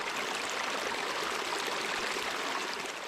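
Water at the source of Talavana hot spring rushes steadily and loudly, a dense, unbroken stream of splashing flow with no pauses or voices.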